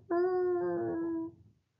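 A person imitating a dingo howl, a single sustained tonal howl lasting just over a second, close and clear, ending in a quick fade with no other sound.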